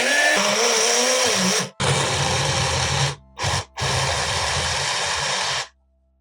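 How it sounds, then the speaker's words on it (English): A blender blending cut tomatoes whirs loudly in steady bursts, pausing briefly twice before running on and then cutting off. "Put the cut tomatoes into a blender and blend until smooth."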